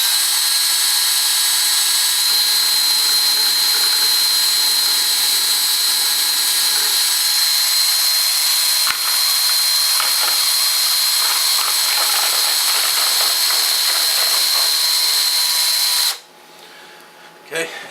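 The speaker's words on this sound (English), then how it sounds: "I attach it to a drill, and to degas the must" A power drill whirs steadily and loudly for about sixteen seconds while stirring elderberry wine must to degas it, its pitch dipping briefly, then cuts off, leaving quiet room noise.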